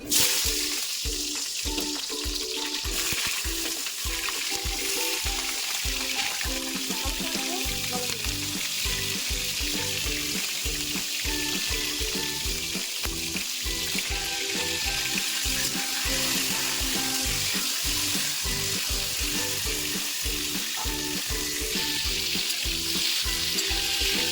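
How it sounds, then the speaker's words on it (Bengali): Slices of pointed gourd fry in hot oil, a steady dense sizzle running the whole time with clattering stirring knocks through the first half and occasional utensil scrapes, close and loud with no voices. "তেলটা ভালোভাবে গরম হলে পটলগুলো আগে লাল লাল করে ভেজে নেব"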